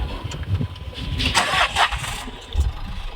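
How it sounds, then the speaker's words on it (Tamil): A car engine cranks and catches, a short whirring start followed by a low running rumble, close by. "இன்ஜின் ஸ்டார்ட் பண்ணிக்கணும்"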